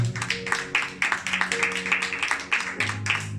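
Church congregation applauding during a sermon, a steady patter of many hands clapping at a moderate distance, fairly soft, with a sustained musical tone underneath.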